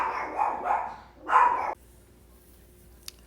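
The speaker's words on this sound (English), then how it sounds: "I think another dog was outside barking." Dogs bark outside, a few loud close barks in quick succession that stop abruptly, followed by near silence with one faint click.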